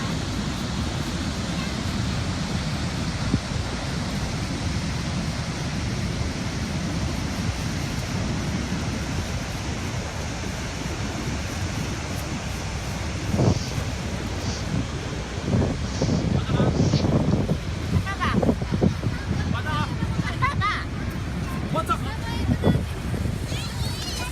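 River water rushing far below a high walkway pier, a broad steady roar mixed with gusty wind buffeting the microphone, with someone talking in bursts near the end.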